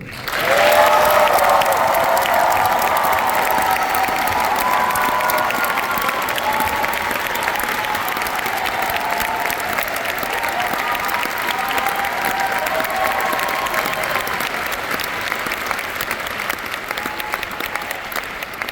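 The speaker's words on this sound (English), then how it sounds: "Let's give a round of applause for Eric Waker." A large concert audience at a university choir's spring show breaks into sustained applause with scattered cheers and whoops, a dense, steady wash of clapping that stays loud throughout and only eases slightly near the end.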